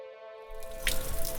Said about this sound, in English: The water's running here